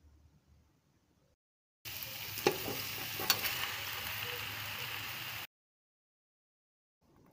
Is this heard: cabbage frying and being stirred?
yes